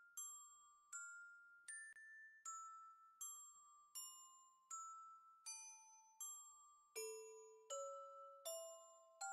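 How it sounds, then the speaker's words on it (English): Small bell rung repeatedly in a horror film scene, a dozen clear, ringing strikes at a steady pace, each decaying before the next, faint and distant with pitch shifting slightly between strikes. "so she rings the bell to let someone know to help her?"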